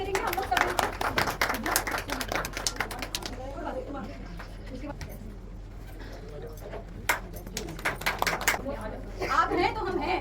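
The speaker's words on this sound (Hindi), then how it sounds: "जोरदार तालियों के साथ सर का स्वागत करेंगे हम लोग सब।" An audience claps loudly to welcome a retired army officer at a family turban ceremony, dense applause that thins out midway before picking up again, with talk over it.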